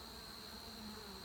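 Honey bees buzz steadily in a struggling hive during a spring inspection, a close, continuous drone with a sustained high whine running throughout and no talk.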